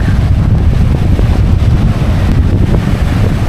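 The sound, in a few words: strong typhoon wind blowing on a beach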